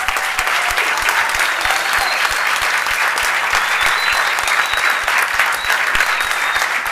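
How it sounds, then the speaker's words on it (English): Sustained applause for youth sports coaches at a city council meeting in Calexico, a dense, even patter of many hands clapping at once, steady and fairly loud throughout the room, with no voices standing out. "Let's give them a round of applause."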